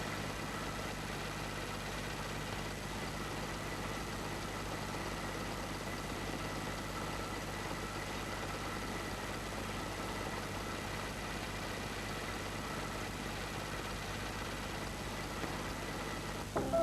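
Steady low rumble of a carbureted petrol car engine idling continuously with a constant hum and faint hiss, no talk, unchanging throughout.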